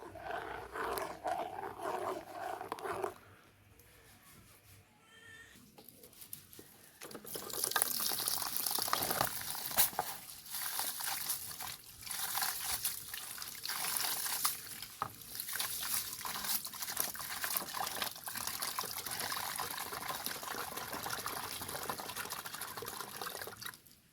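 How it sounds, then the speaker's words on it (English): Rice being rinsed and washed in water, with steady splashing and sloshing that swells after a quieter opening and then carries on continuously, close and fairly loud, with no talking. "So I can go ahead now and get my rice washed."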